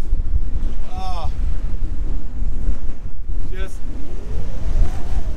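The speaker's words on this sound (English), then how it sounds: "just getting destroyed by the wind" Strong wind buffets the microphone on a lake while a fishing boat drifts, a steady loud rushing roar with brief whistling tones over it.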